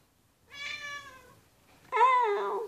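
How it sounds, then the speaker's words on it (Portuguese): A cat meows twice nearby, first a drawn-out call and then a louder, rising and falling meow after a short pause. "Meu gatinho."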